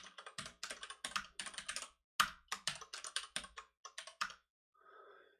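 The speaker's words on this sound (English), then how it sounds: "Look at me typing Unicode." Close, quiet typing on a computer keyboard, with irregular quick runs of key clicks and short pauses, then a brief soft tone at the end.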